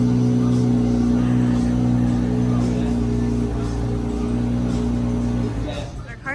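A car engine hums at a steady idle with strong low harmonics, loud and close, while voices murmur faintly in the background, before the sound tapers off with a few clicks.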